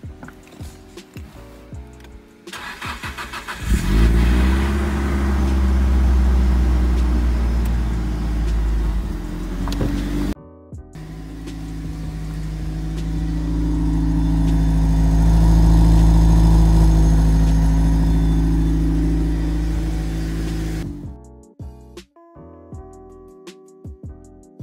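A Nissan S15 engine runs steadily at close range while the car is reversed, a low rumbling drone that swells and holds, drops out briefly near the middle, then returns before stopping, with no talk.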